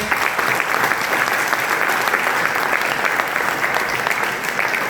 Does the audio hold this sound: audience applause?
yes